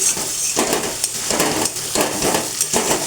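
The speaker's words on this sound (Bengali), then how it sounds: "এবার এটা সুন্দর করে ভাজা করে নেব" Green chillies fry in mustard oil in a pan, crackling and sizzling in rhythmic bursts about every half second as they are stirred, close and fairly loud.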